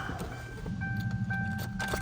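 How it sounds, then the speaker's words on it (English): Key-on warning chimes from a car dashboard, several electronic tones sounding over a low hum, with short clicks scattered through the clip and no talking. "We've got chimes."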